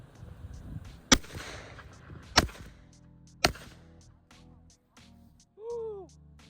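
Three loud, sharp pistol cracks ring out at close range into a watermelon, spaced roughly a second apart, each with a short echoing tail, followed by a brief voice-like whoop.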